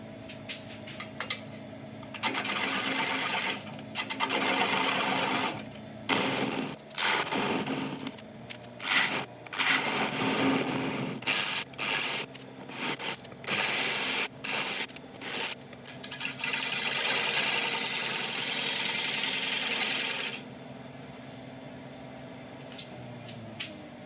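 On a wood lathe, a tool cuts away the tenon on a burl blank, giving a steady scraping, rubbing drone that breaks off and starts again in short bursts, then runs longer passes.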